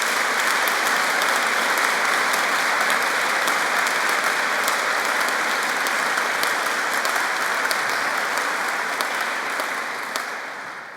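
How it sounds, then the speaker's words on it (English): Sustained audience applause at a public discussion evening in Oban, dense steady clapping from a large crowd that carries on evenly for the whole stretch and tapers slightly at the end. "start by just giving a round of applause to all of those who keep us safe"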